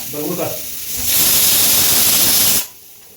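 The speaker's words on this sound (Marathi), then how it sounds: "शिट्ट्या मारते कुकर" A pressure cooker lets off a loud, rushing steam whistle that holds for about a second and a half and then cuts off, just after a brief voice.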